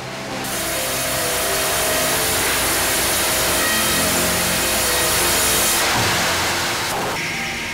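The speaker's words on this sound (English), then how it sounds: "Each massive trunk is cut in two pieces lengthwise, then quarter sawn for the straightest grain." A saw slices lengthwise through a massive wood trunk at a pipe organ factory, making a loud, steady grinding drone that holds for about seven seconds before the cut stops abruptly near the end.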